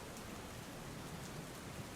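Heavy monsoon downpour across the Aravalli district in Gujarat, a dense, steady hiss of rain hammering surfaces with no break, fairly quiet and distant, no voices.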